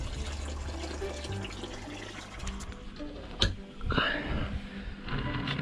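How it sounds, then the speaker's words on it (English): Water runs and splashes steadily into a Harris hawk's water container, with a faint clunk partway through and continuous low background noise. "topping his water up as well"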